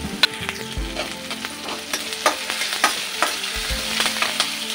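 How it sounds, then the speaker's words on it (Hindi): Ginger and green chillies sauteing in a pan with cumin and asafoetida, a steady close sizzle broken by frequent scraping and clinking stirs of a utensil, with no voices. "अब इसे सॉटे कर लेते हैं।"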